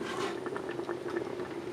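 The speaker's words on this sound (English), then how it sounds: "You want to keep it at a low boil, a little more than a simmer as you add tomatoes to it." A pot of water holds a low rolling boil while fresh organic tomatoes are canned, its steady bubbling and popping faint and close, with no voices.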